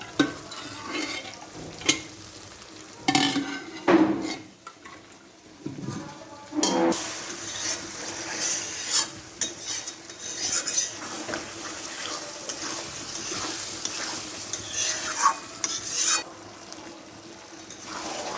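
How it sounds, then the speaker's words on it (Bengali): Potatoes and spices stir-fry in a pan for a home lunch curry, with a steady sizzle under repeated scraping and stirring strokes and occasional clatter of the utensil against the pan, close and moderately loud. "আর এদিকে আলু আর মশলাটা কষে কষিয়ে নেওয়া হচ্ছে ভালো করে"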